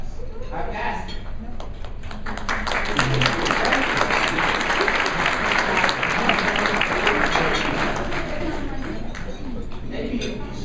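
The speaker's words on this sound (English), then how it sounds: "Maybe you should have waited to clap, but I'll take it." A dinner audience breaks into steady applause that swells and holds for several seconds, broad and full across the room, with a speaker's voice faintly present.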